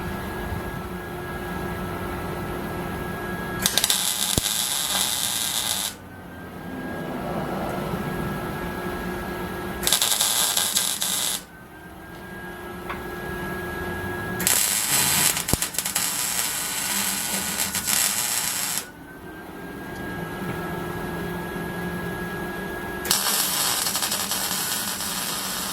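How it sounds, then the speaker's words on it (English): Tack welding on a Magnaflow exhaust pipe: four separate bursts of loud, crackling, broadband arc sizzle, each lasting one to four seconds, with quieter shop hum and a steady tone between them. "let's go ahead and just tack weld it before I weld it up"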